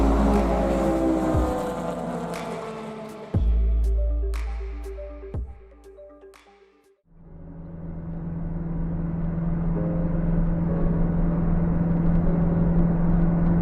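A Mazda RX8 cruises along the A12 road toward Ipswich with a steady, loud engine drone. Partway through, the engine note falls away to a brief dip, as on a gear change, then rebuilds into a continuous, rising hum.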